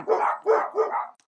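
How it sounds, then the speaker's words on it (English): Dogs barking outdoors, close and loud: three quick barks in a tight rhythm followed by a softer trailing yelp, with nothing else underneath. "Excuse the dogs."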